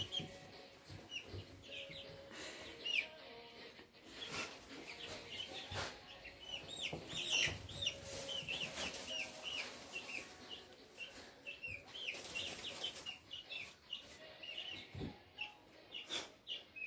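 Chick clucks and chirpy calls repeat irregularly over a busy, noisy background, fairly close, with no talking.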